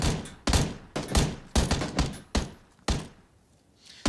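Gunfire in the battle royale game PUBG during a first-person squad tournament match, a rapid run of sharp, loud shots in uneven bursts, some close together, fading into a quieter gap before another shot at the end.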